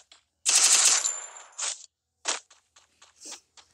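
Rapid automatic gunfire in the Free Fire video game, a loud close burst of shots followed by several shorter sharp bursts and single cracks separated by silence.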